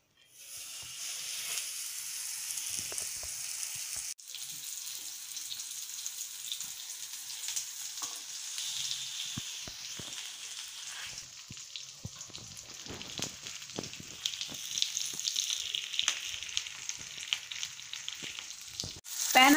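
Pomfret coated in semolina (rava) fries in a pan preheated on full flame, now over medium heat. A steady, close sizzle and hiss runs through the whole stretch with small crackles, and no one speaks over it.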